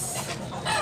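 Clucking from a 17-month-old bullstag rooster at a poultry farm in Tabunok, Cebu, a brief close call over steady farmyard noise.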